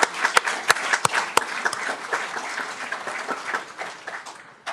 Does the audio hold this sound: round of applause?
yes